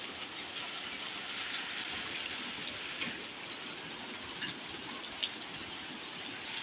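Heavy rain mixed with hail falls on a car roof as a dense, continuous hiss and patter, with a few sharper ice knocks standing out from the steady roar.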